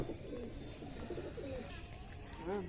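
A soiled pigeon with a ring on one leg coos softly in a low, faint, throaty warble, with a clearer burst near the end.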